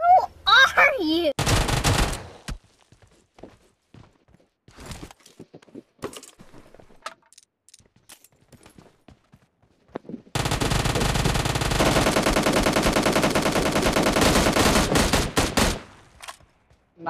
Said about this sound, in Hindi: गोलियां चल रही है यहाँ पे